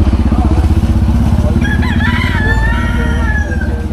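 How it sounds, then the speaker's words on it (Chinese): A rooster crows loudly for about two seconds on a busy street market in Tunisia, over the steady, close rumble of an idling motorcycle engine. "还有公鸡。"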